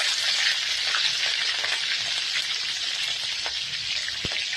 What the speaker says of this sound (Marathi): आता ह्यात 4 हिरव्या मिरच्या बारीक चिरून घेतलेल्या आहेत ते टाकूया